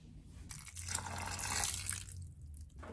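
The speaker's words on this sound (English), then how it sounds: "So I'm just gonna pour some water on top." Water is poured onto potting soil in a plastic tub, a soft close splashing and trickling wash that swells for a couple of seconds and then tapers off, with no talking.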